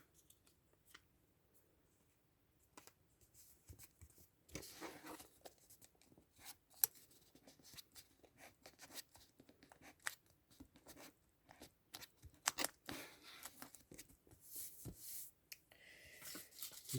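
Scissors cutting through a small piece of cardboard for a handmade paper grimoire, a quiet, close series of irregular snips and crunchy cuts with handling rustles between them in an otherwise hushed room.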